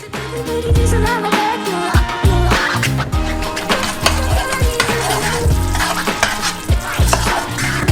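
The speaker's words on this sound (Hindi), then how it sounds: "हमने इसे स्टोव पर रखा। जरूरी तापमान पर रखें और पकाएं।" Food cooking in two saucepans on a stove, with steady loud sizzling and frying and the busy clatter of stirring and utensils against the pans throughout.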